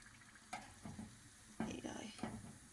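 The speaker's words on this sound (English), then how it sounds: "So we're cooking, frying it at high heat." Bursts of sizzling as samosas fry in hot oil at high heat flare up several times, with soft stirring and scraping sounds between, close and moderately loud.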